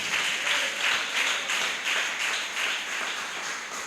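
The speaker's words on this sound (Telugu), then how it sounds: "చప్పట్లు కొట్టి దేవుని నామాన్ని కనపరుద్దాం" Church congregation clapping hands together in a steady, rhythmic beat during a worship sermon, loud and continuous with no voices over it.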